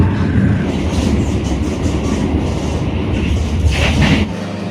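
The KA Progo passenger train runs on rails in Indonesia between Purwokerto and Kroya, heard from inside as a loud, continuous rumble with rhythmic wheel clatter and a brief squeal near the end.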